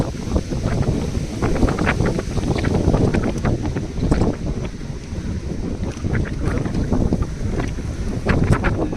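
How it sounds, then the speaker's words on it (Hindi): Strong wind buffets the microphone while a bicycle is ridden uphill in the Shivalik hills, a loud continuous roar with gusty, crackling bursts throughout and no voices. "इतनी तेज हवा है"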